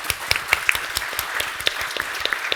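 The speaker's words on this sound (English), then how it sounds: "let's give a great round of applause for our outstanding panelists" Audience applause for panelists at a SXSW biotech panel, a steady wash of many hands clapping with sharper individual claps standing out near the listener throughout.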